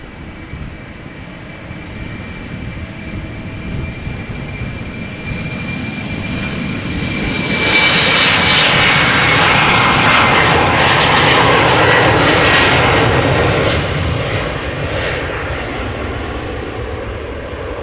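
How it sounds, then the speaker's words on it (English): A KLM Embraer 190 jet builds from a steady engine hum to a loud broadband roar as its engines spool up on the takeoff roll, peaking in the middle and holding, with a thin whine running through it. "You're watching KLM flight 1107, an Embraer 190 outbound to Stockholm."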